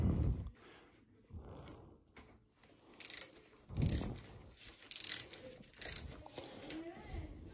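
Ratcheting torque wrench tightening motorcycle steering damper bolts, several close bursts of rapid clicking separated by short pauses, loud and crisp with no talking.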